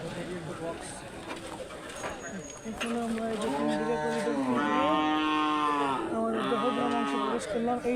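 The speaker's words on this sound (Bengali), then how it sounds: "আমাদের সামনে গরুগুলো দেখছেন" Cattle gathered at the Tin Bigha Corridor on the India–Bangladesh border low and moo loudly nearby in long drawn calls, while people talk and birds coo in the background.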